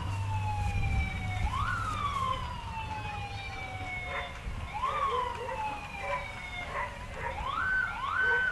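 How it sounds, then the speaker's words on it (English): Police sirens wail and yelp repeatedly at the Valley of Flowers Parade, rising and falling over a low vehicle rumble, fairly close and loud throughout. "We know the parade is here. We can hear the sirens."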